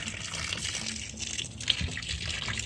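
Newly planted tomato plants being watered, a steady close gush and trickle of water running continuously across the whole stretch with no talking.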